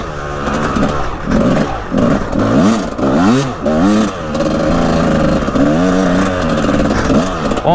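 A Kawasaki KX 250 motocross bike on a track runs at low revs just above idle, its engine burbling and rising in short, wavering pulses of throttle, close and steady throughout.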